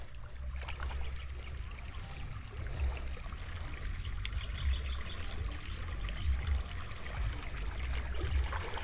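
Water under strong pressure streams steadily while plants are watered, a continuous low rushing and splashing that stays fairly quiet and unbroken, with no talking.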